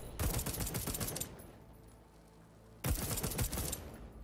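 Rapid bursts of automatic gunfire in the video game Deathloop on PS5, loud and close, with a brief quiet pause before another volley erupts.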